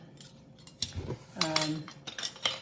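Green tomato salsa verde is spooned into canning jars, with clinks of a metal spoon and glass, scraping and clatter in short bursts, close and moderately loud.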